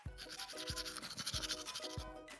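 A toothbrush scrubs teeth in close, steady strokes, with four or five distinct rhythmic scrapes over a bristly hiss, heard alone with no talking.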